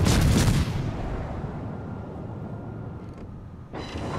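Deep naval gunfire from a warship in a World of Warships-style game opens with a loud, booming salvo. A long rumbling decay follows, then a second, lighter report near the end.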